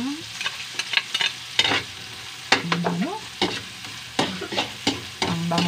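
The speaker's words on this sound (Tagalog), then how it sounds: "Diyan na rin ako mag-gisa ng mga sangkap." Garlic is sautéed in a pan of oil left from frying tilapia, with a steady low sizzle under repeated close stirring and scraping clinks of a utensil against the pan.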